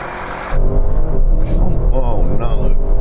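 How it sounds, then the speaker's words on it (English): BMW M5 and Audi RS6 Performance launching off the line in a drag race, a sudden loud surge of engine roar and exhaust that holds strong with rising and falling notes. "I've already drag raced the new BMW M5 against the current RS6 performance, and this is what happened"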